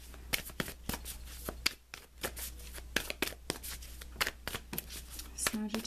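Tarot cards being shuffled in quick riffling bursts of crisp papery flicks, close and moderately loud over a low steady hum.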